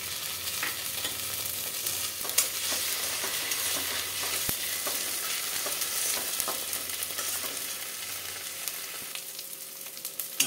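Ginger garlic paste fries in oil with browned onions and chillies for a Bengali chicken kosha, a continuous close sizzle broken by frequent ladle scrapes and taps against the pan throughout.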